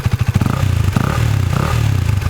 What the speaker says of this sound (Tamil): அடுத்து வந்து எக்ஸாஸ்ட் சவுண்ட் பார்த்துருவோம்.